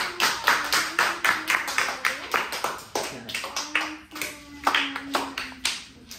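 Several people clap hands in a home gathering for a Mother's Day celebration, a steady run of close, uneven claps over about six seconds with a voice talking faintly underneath.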